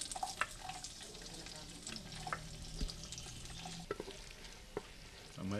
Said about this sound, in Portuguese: Colocamos para fritar primeiro a cebola e o pimentão.